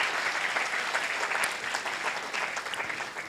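Audience applause at a TCS InQuizitive quiz event, the Nagpur regional finals, a steady dense wash of clapping from a crowd with no break, fairly close and even in loudness throughout.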